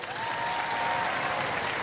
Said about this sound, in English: Ladies and gentlemen, give them a round of applause.